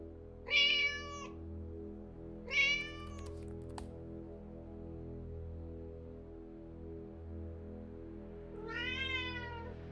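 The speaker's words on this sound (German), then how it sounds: "Das kenne ich, wenn meine Katze neben mir miaut." A cat meows three times within the Alfred Hitchcock Vertigo video game: two clear meows close together near the start, then a longer one at the end, all over a low, steady ambient hum.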